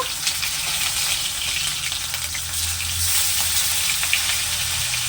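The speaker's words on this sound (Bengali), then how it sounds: "এই একই তেলে বাকি মাছগুলো ভেজে নিচ্ছি" Rohu fish pieces frying in hot oil in a pan over a medium-low gas flame give a steady, close, dense sizzle with crackling pops that holds throughout, with no talking.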